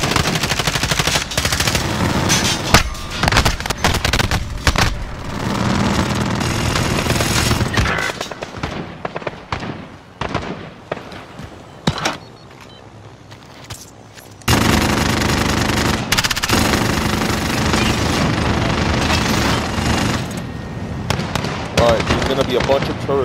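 Sustained automatic gunfire and scattered shots in Call of Duty: Modern Warfare Spec Ops, dense bursts that drop briefly before resuming loudly, with voices and radio chatter mixed in.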